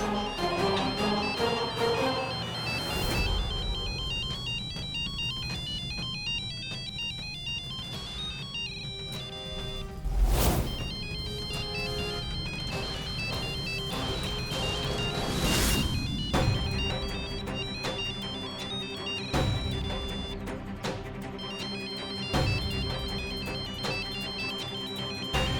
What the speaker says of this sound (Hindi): ये फोन तो ऑफ ही नहीं हो रहा है, बजा जा रहा है।